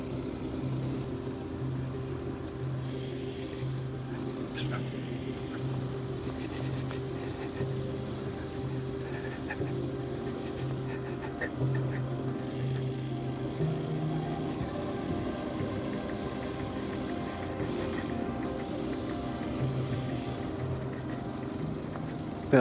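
A Kawasaki KLX230S motorcycle descending a hill in third gear, its engine holding a low, steady drone with light compression braking under wind and road noise, continuous and close.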